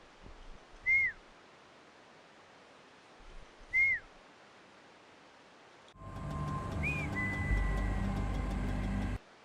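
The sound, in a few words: whistling by the rider in the Trials video game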